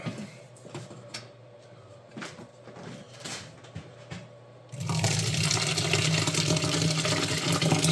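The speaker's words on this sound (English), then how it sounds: "So I've doubled up the cheesecloth, and then we're gonna pour the curds into it." Cheese curds are poured from a pot into doubled cheesecloth over a kitchen sink, a sudden sustained rush of splashing liquid that follows a few quiet clinks and knocks.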